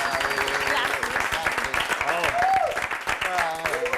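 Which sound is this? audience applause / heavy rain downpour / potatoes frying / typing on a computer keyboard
audience applause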